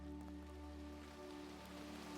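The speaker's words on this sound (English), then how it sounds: "and a soft rain begins to fall" A light forest rain patters softly over leaves and the ground beneath a young beech, forming an even, hushed wash of drops over a faint steady hum, with no talking.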